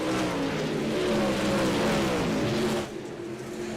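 Dirt track race cars lapping a short track at Fairbury in a DIRTcar event: a dense, steady engine roar with rising and falling revs as cars circle, fading slightly near the end.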